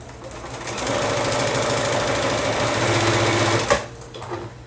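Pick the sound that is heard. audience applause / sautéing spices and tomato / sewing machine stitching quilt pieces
sewing machine stitching quilt pieces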